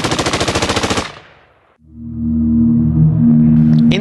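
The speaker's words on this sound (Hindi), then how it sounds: "बेअंत को देखकर सतवंत ने भी मशीन गन से गोलियां दागना शुरू कर दिया।" A loud, rapid burst of machine gun fire rattles for about a second, then cuts off and gives way to a low, steady droning tone.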